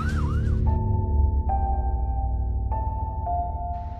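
An ambulance siren wails continuously, its tone stepping between two pitches in a steady alternating pattern over a low rumbling background, fairly close and loud.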